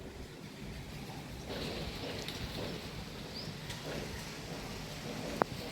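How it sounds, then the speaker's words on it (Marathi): Steady rain falls outdoors on a dark, cloudy evening during the Gudi Padwa new year festival, a continuous soft hiss throughout with a brief sharp knock near the end. "पाऊस पडतोय इथे खाली."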